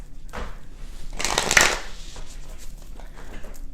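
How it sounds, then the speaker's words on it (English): Tarot cards are shuffled by hand close up in a rustling burst that swells in the middle and then thins to softer, scattered card flicks. "as you can see, I'm not a very graceful shuffler"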